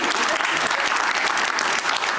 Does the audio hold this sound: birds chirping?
no